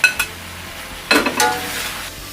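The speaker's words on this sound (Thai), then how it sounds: "ผัดอีกเล็กน้อยนะคะให้เข้ากันนะคะ" Sea bass stir-fried with celery and chili in a pan makes short bursts of sizzling and scraping stirs, close and fairly loud, with quieter hissing between them.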